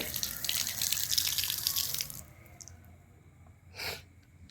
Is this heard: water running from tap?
yes